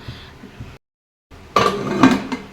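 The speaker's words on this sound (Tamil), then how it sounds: "மூடி போட்டு க்ளோஸ் பண்ணிட்டோம்" A lid clatters onto a metal pressure cooker with a couple of sharp metallic clinks and a scraping knock, close by, after a brief silence.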